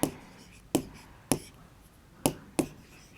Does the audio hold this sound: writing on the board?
yes